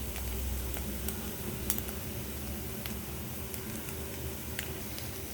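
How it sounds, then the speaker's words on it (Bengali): Eggs frying in oil in a wok, seasoned with black pepper, giving a steady low crackling sizzle with occasional faint ticks and scrapes throughout, no voices. "এবার আমি কড়াইতে তেল দিলাম, ডিমগুলো এর মধ্যে ভেজে নেব।"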